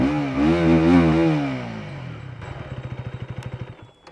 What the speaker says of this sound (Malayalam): ഇനി എഞ്ചിൻ ഒന്ന് ഓണാക്കാം നമുക്ക്.